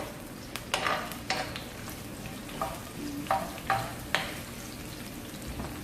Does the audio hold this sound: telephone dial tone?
no